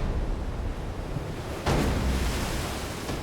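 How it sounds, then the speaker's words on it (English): Big ocean waves crash at Panama City Beach, Florida, amid a rip current, forming a steady broad roar of surf that swells into a louder surge partway through; no voices. "The waves were really big, crashing over them"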